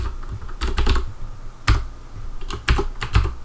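Clicks of a computer keyboard being typed on, near and fairly loud, in short irregular bursts of keystrokes with brief pauses between them.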